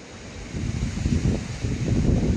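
Strong, steady wind roars on a high mountain, a continuous low rush with gusty swells that rise midway and stay loud throughout, with no voices.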